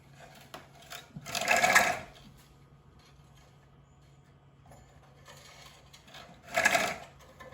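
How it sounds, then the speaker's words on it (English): Thin wire rasps and whirs in two short bursts as it is pulled through the holes of a wooden beehive frame. Between the bursts there is near silence with a faint low hum. "I'll thread that wire through."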